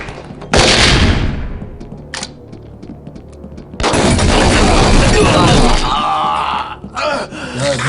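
Gunfire in the SWAT 4 multiplayer video game comes as loud, close bursts: one sharp volley early, then a longer sustained barrage, with a player talking between shots.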